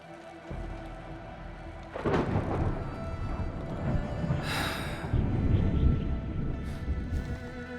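Thunder and rain in the video game Arknights Endfield, a loud rumbling crack followed by sustained heavy rain and rolling thunder.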